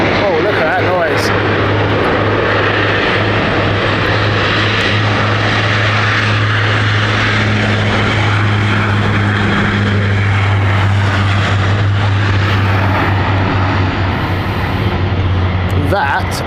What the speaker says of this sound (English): That was an epic takeoff there from Luxor.